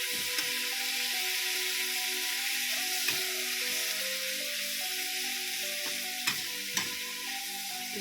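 Shallots frying in a pan with oil, a steady bright sizzle with crackles and occasional sharp pops from stirring, with a low tonal hum running beneath.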